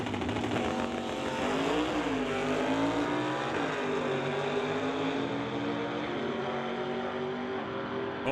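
Two drag cars, a Chevy II and a Mercury Comet, launch hard side by side at a NHRA divisional race at Mission Raceway, a loud sustained engine roar with shifting pitch that stays near and dense throughout.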